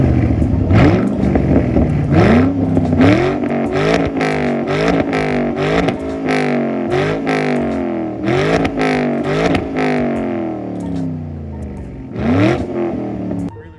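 A Ford Mustang with a new aftermarket exhaust revs hard to high RPM in repeated rising pulls with shifts between them. The engine is loud and close, its pitch climbing and dropping in a steady rhythm with no talk.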